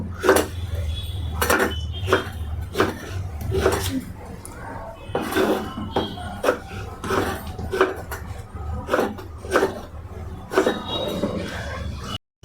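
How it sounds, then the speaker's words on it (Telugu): Repeated sharp knife strikes on a cutting board as tomatoes are chopped in a home kitchen, a steady rhythm of close, crisp chops with light clinking of utensils in between. "టమోటా అయితే కట్ చేసుకుంటున్నాను"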